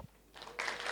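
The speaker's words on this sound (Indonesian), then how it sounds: "Tepuk tangan." Audience at an indoor seminar on the resilience of houses of worship breaks into clapping, a brief burst that swells quickly near the end after a moment of quiet room tone.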